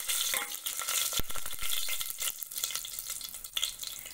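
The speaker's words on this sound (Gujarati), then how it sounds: "સરસ આવી રીતે તતળે એટલે તેની અંદર આપણા ખડા મસાલા ઉમેરી દેશું અને સરસ હલાવી લેવું" Whole spices sizzle in hot oil for a fenugreek khichdi while a spoon stirs them, scraping and clinking against the pan in irregular bursts over a steady close frying hiss.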